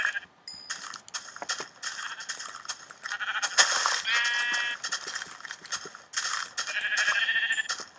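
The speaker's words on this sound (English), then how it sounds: "And sheep. Good for making beds." Bleats from video game sheep come in short, wavering calls scattered across the clip, mixed with crisp clicking and crunching game effects. No voices are heard.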